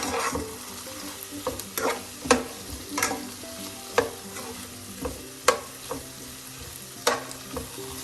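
Potatoes and okra stir-fry over high flame with Kashmiri chili powder, a low steady sizzle punctuated by about a dozen sharp spatula clacks and scrapes against the pan at uneven intervals, close up and without talk.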